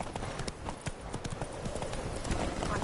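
Horse hooves clip-clop steadily in The Witcher 3 as the mount trots along, a continuous rhythmic clatter under faint background game ambience.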